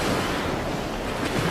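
Strong wind and surging sea waves around a boat on open water, a loud, steady roar of gusting wind and surf close to the listener, with no voices.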